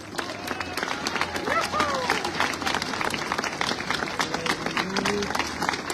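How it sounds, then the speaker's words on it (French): An audience at the closing ceremony of La Grande Odyssée VVF 2024 applauds with dense, sustained clapping that fills the space, mixed with crowd noise and scattered voices. "vous pouvez les applaudir encore très très fort"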